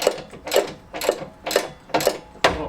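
A fitting on a classic Fiat 500 engine is tightened with about six rhythmic ratcheting strokes, each a close, sharp burst of clicks with short pauses between.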